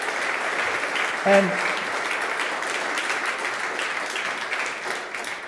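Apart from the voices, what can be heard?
audience applause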